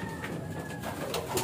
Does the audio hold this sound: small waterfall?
no